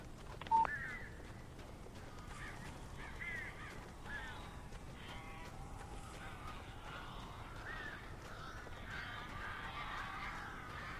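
Birds caw in the video game Alan Wake, giving faint scattered harsh calls over a steady background hiss, with one brief beep near the start.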